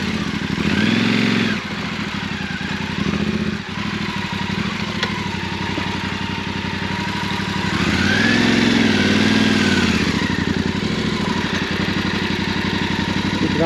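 Off-road motorcycle engine idling outdoors during a Scandinavian off-road trip, a loud steady chugging rumble with the pitch rising briefly a couple of times, heard up close and alone.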